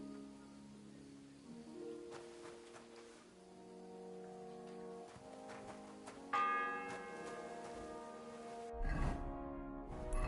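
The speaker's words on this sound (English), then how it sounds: "The fourth bell." A bell tolls in Kingdom Come Deliverance 2 with long, sustained ringing tones that blend into soft outdoor ambience, moderately distant, followed by a brief rustling burst at the end.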